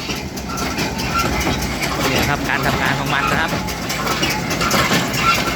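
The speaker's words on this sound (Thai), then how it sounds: "เขาก็มีเครื่องอัดอย่างนี้นะครับคันใหญ่ๆอย่างนี้เลยนะครับ ลากโดยรถไถนะครับ" Large tractor-pulled sugarcane leaf baler running in a cane field, its steady mechanical clatter and engine drone continuous throughout, with someone talking over it.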